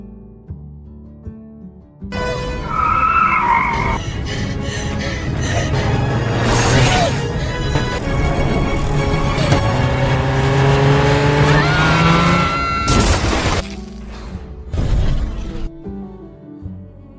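A car speeds away and skids in a film scene, with a loud engine roaring and tires squealing over a music score, ending in sharp crash-like bursts and a brief quiet.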